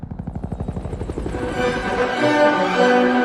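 A helicopter's rotor thumps in a steady rapid pulse, growing louder and smoother as it draws closer, ending in a sustained engine roar.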